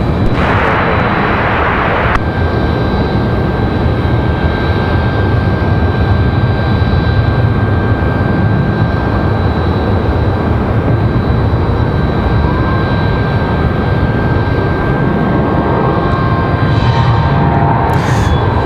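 A Republic Airways jet taking off from runway 23 left at Raleigh-Durham airport, a loud, continuous broadband engine roar with a steady whine, holding strong throughout and not easing off.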